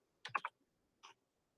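Typing on a computer keyboard, a quick cluster of three or four close key clicks followed by a single lone click after a pause, crisp and near in a quiet room.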